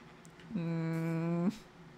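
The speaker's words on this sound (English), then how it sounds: "Come on, sheep." A sheep bleats once in a video game, a single sustained harmonic bleat of about one second, close and clear over faint background sound.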